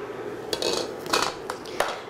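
A spoon stirs heavy cream into a zucchini sauce in a metal pot, giving a few soft scraping clinks against the sides and bottom, close by and fairly quiet, with no one talking.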